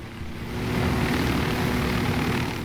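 A helicopter in Ghost Recon Wildlands drones with a steady, loud rotor-and-engine roar that swells slightly and holds, close by, without talk.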